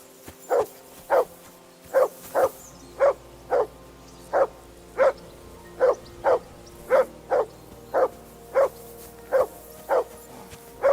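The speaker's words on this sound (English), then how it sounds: "Be quiet, you flea-bitten hound." A dog in the video game Kingdom Come: Deliverance II barks repeatedly in a steady, evenly spaced rhythm, about twenty sharp, close barks over a quiet background.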